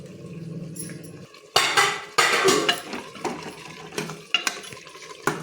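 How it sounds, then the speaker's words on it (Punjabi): Boiled potatoes dropped into a pan of simmered masala, with sharp metallic clatters of a spoon against the pan and scraping stirring sounds in a quiet kitchen, close and intermittent. "ਲਓ ਜੀ ਆਪਣਾ ਮਸਾਲਾ ਰਿੱਝ ਗਿਆ ਤੇ ਆਪਾਂ ਇਹ ਚ ਪਾਤੇ ਆਲੂ"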